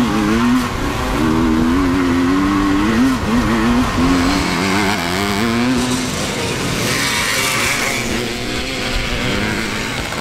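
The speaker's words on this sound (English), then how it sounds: "I now got to ride this 78 KTM 250, take a look at the track, and see if this vintage time machine is ready to race" Vintage 1978 KTM 250 motorcycle ridden hard around a race track, its engine loud and close with wavering revs rising and falling continuously throughout, no talk.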